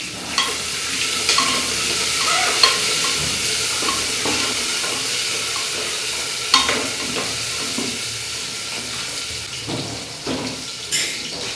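Onions sizzle steadily in a hot pan for a North Karnataka home lunch, with a constant frying hiss, occasional stirring scrapes and clinks close by, and no talking.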